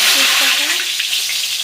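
Bay leaf, cardamom, cinnamon, cloves and cumin drop into hot oil for a chicken kosha tempering, making a loud, close burst of crackling sizzle that settles to a steady fry.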